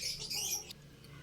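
Pet African lovebirds give harsh, high squawks and chatter close by for the first half, then fall quieter, with faint calls lingering.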